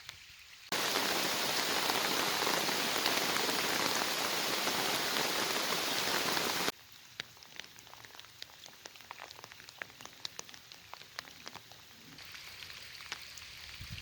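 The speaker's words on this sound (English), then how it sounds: "Now it's raining again." Heavy rain hisses loudly and steadily for several seconds during a backcountry canoe trip in the Kawarthas in September, then gives way to scattered drips and light patter.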